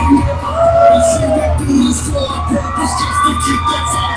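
A wrestling crowd at a tag team championship match in High Point cheers and yells, a loud mix of shouts and whoops with bursts of excitement throughout.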